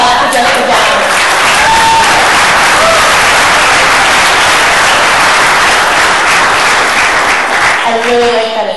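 An audience applauds the speaker at a presentation, loud sustained clapping from a crowd filling the room for several seconds before fading as a voice begins to speak.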